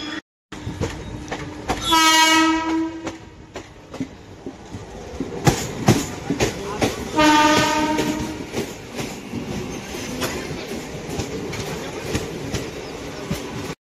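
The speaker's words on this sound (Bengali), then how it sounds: "প্রায় 3 মিনিট লেটে আমাদের কাঞ্চনজঙ্ঘা এক্সপ্রেস কিন্তু ছেড়ে দিল।" Kanchanjunga Express pulling out of a station: two loud, drawn-out horn blasts separated by a few seconds, over clattering wheels and a steady rolling rumble, with no one talking.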